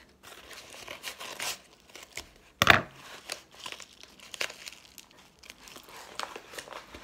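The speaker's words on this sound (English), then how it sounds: "I'm just gonna cut this and mm, try not to cut what's inside it." Scissors cut into the plastic wrapping of a movie DVD, giving close crinkling and rustling with one loud crackling snip near the middle and softer handling noises after it, with no speech.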